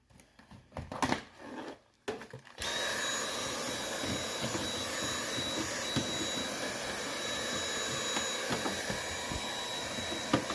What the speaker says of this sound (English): All you gotta do is just a little vacuuming and brushing.